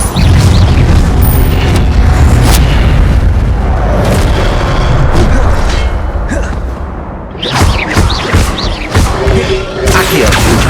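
Loud fiery spell blasts from the Incendio charm in Hogwarts Legacy on PS5 boom and crash densely over a busy game soundscape, with bursts of impact thuds and a brief dip before more crackling hits.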